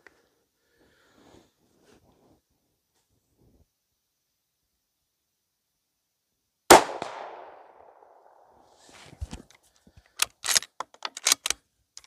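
A single loud rifle shot cracks out at an outdoor shooting range and trails off into a fading echo, followed by a scatter of sharp clicks and clatters from the rifle being handled.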